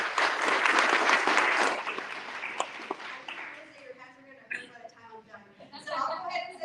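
An audience at a mayoral forum breaks into dense applause for several seconds, loud and close, then tapers off into scattered claps as a voice speaks over the fading clapping.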